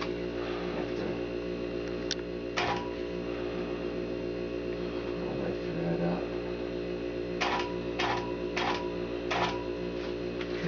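Longarm quilting machine stitching a pantograph pattern: a steady motor hum with a rapid mechanical stitching drone, marked by a handful of sharp clicks and ticks, continuous and close, with no voices.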